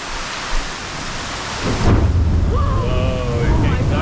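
A massive thunderstorm hits John's Pass at Madeira Beach, Florida. Steady rain builds into a loud, close rumble of thunder, and faint voices are heard through the downpour.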